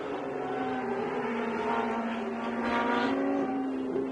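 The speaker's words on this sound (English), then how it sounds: "particularly when we get the Matras coming down again, just if we can hear the engine note." A historic Matra race car runs on the Montjuïc circuit in Barcelona, its engine a steady, droning note that holds for several seconds at moderate distance, with no voices.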